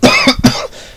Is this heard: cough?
yes